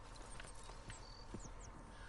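A horse in Red Dead Redemption 2 clip-clops along at a steady walk, hooves thudding in an even rhythm at moderate distance against a quiet outdoor ambience, with no talking.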